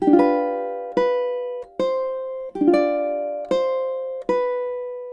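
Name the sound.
ukulele playing measures 21 and 22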